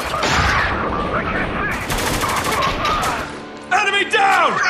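Dense, loud gunfire from Spec Ops: The Line, a sustained fusillade of rapid rifle and machine-gun shots filling the moment, with shouted voices breaking through near the end.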